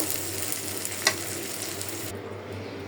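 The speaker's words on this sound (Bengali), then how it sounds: "আমি এক সাইডে রেখে পেঁয়াজটা ভেজে নিলাম" Onions frying in a pan of oil just after a batch of fish, a steady broadband sizzle with one brief clink of a utensil near the start, continuous and close with no talking.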